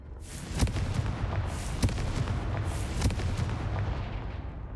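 Confringo blasting spell explosions in the Hogwarts Legacy video game, a loud rumbling barrage with three or four sharp booming bursts spaced about a second apart over a continuous low roar.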